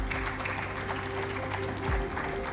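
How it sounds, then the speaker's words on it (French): Continuous audience clapping for a school quiz team at a televised inter-lycée contest, dense and moderately loud, with a low steady hum and faint voices beneath. "on l'applaudit"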